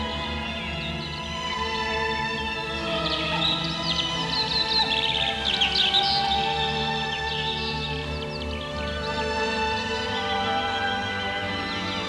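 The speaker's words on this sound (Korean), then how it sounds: "새들이 지저귀는 소리 말이야." Many birds chirp and twitter in a cartoon setting, a steady close chorus of high calls layered over a soft sustained music bed, with no one talking.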